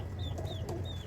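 Backyard chickens cluck in short bursts close by over a low, constant hum, with a thin high call threading through.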